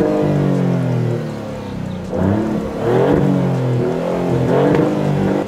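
A Maserati GranTurismo, the 2022 successor model, revs hard in Corsa mode, its loud, close engine note rising in several surging sweeps over a steady idle rumble, with no talking.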